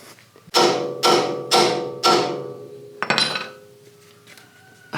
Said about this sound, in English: I'm gonna grab a hammer.